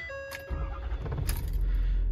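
A 2015 Ford F-250 4x4 utility truck with a 6.7 Power Stroke diesel at 162,240 miles: a brief dash chime and starter crank, then the engine catches and settles into a steady, close low diesel idle.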